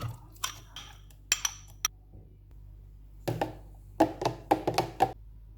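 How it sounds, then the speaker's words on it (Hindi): A spoon clinks and taps against a glass as soaked basil seeds are stirred into a milkshake, giving a few scattered knocks and then a quicker cluster of bright clinks near the end. "अब हम इसमें भिगोया हुआ तुहम लंगा डालेंगे और मिक्स कर लेंगे"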